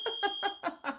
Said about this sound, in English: The alarms are going off again.